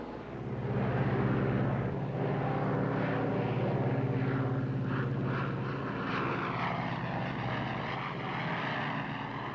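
A propeller airplane at climb power gives a steady, loud engine drone with a throbbing propeller beat that holds evenly throughout, heard from inside the cabin with no talk.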